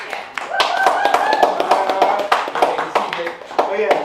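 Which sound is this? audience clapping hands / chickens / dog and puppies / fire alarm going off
audience clapping hands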